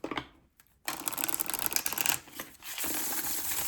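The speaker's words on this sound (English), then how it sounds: "I'm going to shuffle them 3 times like I usually do." Tarot cards being shuffled in hand, a close, crisp riffling and fluttering in two bursts separated by short pauses, with no talking.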